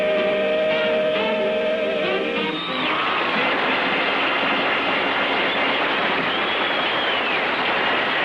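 Train running through a valley on the way up to Sugar Hill in Harlem, a steady loud rolling rumble and rush that swells after a brief tonal horn-like start, carrying on without let-up to the end.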